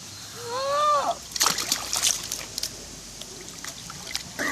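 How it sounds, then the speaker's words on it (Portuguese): Child diving into murky water with a splash, followed by scattered sloshing and dripping, close by; a voice is heard briefly just before the plunge. "Vai dar mais um mergulhão."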